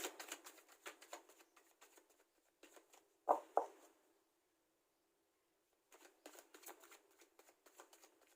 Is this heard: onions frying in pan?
no